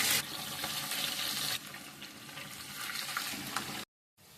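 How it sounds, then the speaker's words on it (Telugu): Chicken pieces frying in hot oil for chicken fry piece biryani, a steady loud sizzle with bubbling and stirring, ending abruptly in brief silence. "ఇప్పుడు చికెన్ ఫ్రై చేసుకుందాము"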